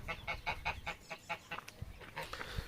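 Young geese honk close by in a quick run of nasal calls, about a dozen in a row with brief gaps, then a few looser ones, with no talking.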